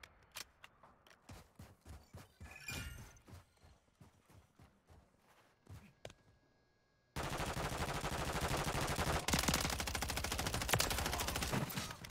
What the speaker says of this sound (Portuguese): Tô levando tiro, trocando pentes.